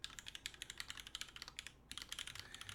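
Rapid, clacky keystrokes on a TGR Alice mechanical keyboard with unlubed Helios switches and GMK keycaps, close and continuous with a brief pause near the end.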